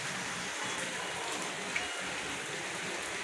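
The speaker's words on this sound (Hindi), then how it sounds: "आज इतनी तेज़ अभी भी आवाज़ आ रही है तो बारिश की, बहुत तेज़ लगी हुई है बारिश।" Heavy monsoon-style rain pouring down outside a home, a dense, even hiss of drops drumming on surfaces, close and continuous throughout.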